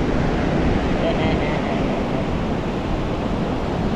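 Ocean surf at Barra de Santiago beach in Jujutla, Ahuachapán, makes a steady, loud, broadband roar of waves breaking and washing ashore, continuous for the whole stretch with no separate crashes standing out.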